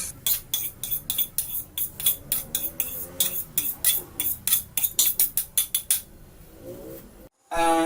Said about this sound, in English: Now we put the onion in this recipe, the chopped onion, and we mix it with the tomato and the red chili